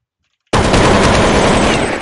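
Pistol gunfire in a shooting video game bursts in suddenly after half a second of silence and continues as loud, dense, sustained shooting until the end.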